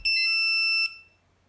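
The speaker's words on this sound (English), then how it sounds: "Still have the loud beeping." A Hubsan X4 H123D Jet drone with its cable plugged in gives off one loud, steady high-pitched electronic beep lasting nearly a second, then cuts off, leaving a faint low hum.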